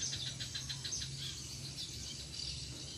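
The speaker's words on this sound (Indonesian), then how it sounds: "sekarang ada background suara burung nih" Faint, high birdsong chirps repeat steadily through the background, distant and soft under a continuous low hum, with no speech.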